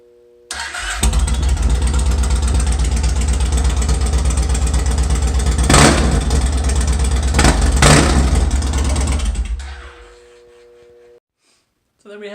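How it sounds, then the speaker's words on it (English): A 1675cc V-twin motorcycle on straight pipes with no mufflers fires up and runs loud and rough for about nine seconds, with a couple of sharp blips in the middle before it shuts off into quiet. "I will do a quick startup with basically no mufflers. We will see what it sounds like and how brutal it is."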